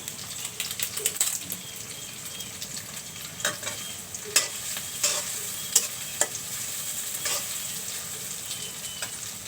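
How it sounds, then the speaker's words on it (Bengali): Bay leaves sizzling in hot oil in a pan for a beef and potato curry, giving a steady, moderately quiet fry hiss broken by sharp crackles and spoon taps, close by, with no talk. "এখন আমি দিয়ে দেব তেজপাতা"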